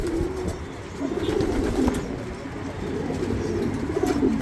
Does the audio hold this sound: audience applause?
no